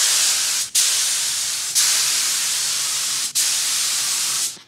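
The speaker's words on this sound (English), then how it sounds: "when we mix our Porsche Arctic Silver color and spray two or three coats, it blends right in" Spray gun applying Porsche Arctic Silver paint onto a Porsche 911 996 headlight part in a home garage: steady loud hiss in three long bursts separated by brief pauses, with no talk.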